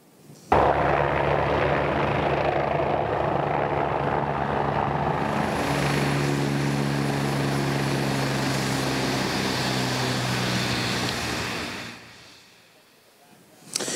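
A medical helicopter's rotor and engine drone loudly and steadily for several seconds, then the roar fades and winds down near the end.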